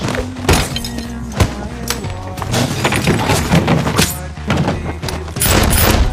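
Loud rapid gunshots in an action scene, sharp booming cracks fired in quick irregular bursts over a low rumbling score, with thuds and breaking sounds mixed in.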